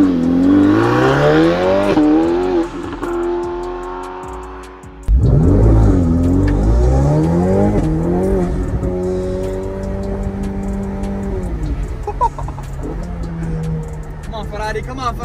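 A Ferrari 488 Pista and a Porsche 911 GT2 RS strain against each other in a tug of war, their engines revving loudly and continuously with rising and falling pitch; voices are heard over the roar.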